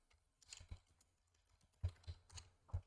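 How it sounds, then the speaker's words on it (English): Several quiet keystrokes on a computer keyboard, tapped in two short irregular clusters with a pause between them, close up and with no voices. "Ooh, I can't type today."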